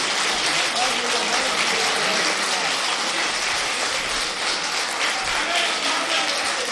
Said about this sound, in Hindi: ऑडियंस देखिए कितने ताली बजा रही है।